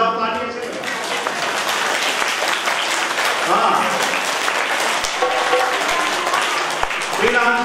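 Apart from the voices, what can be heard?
audience applause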